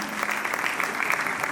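Loud, dense applause from a crowd at a school event, honoring parents for preparing their children for a competition; steady clapping throughout.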